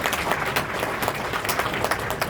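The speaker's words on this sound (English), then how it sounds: "Let's give them a big round of applause." Audience applause for a three-star sponsor, the Munitions Industrial Base Task Force, at an AUSA keynote event: dense, steady clapping from a large crowd, sustained at even loudness through the whole stretch.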